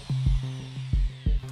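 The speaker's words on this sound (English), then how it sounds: "place it on the upper end of the stock and drill a hole the same size as the bolt" A power drill bores a hole into the wooden stock of a homemade prop shotgun. A close, steady humming motor whine is broken by several heavy thumps at an uneven rhythm, with no voices.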